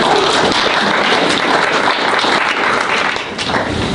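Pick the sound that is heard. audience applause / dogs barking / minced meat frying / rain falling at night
audience applause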